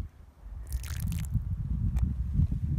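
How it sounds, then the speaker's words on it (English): Water is dumped onto ash lying on top of burned soil after the Pioneer Fire, giving a brief splashing pour followed by soft squishing and dripping as it soaks in, close and fairly quiet. "I'm going to start by taking some water and just dumping it on just the ash on top of the soil"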